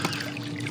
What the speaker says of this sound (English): Oh yeah, good strong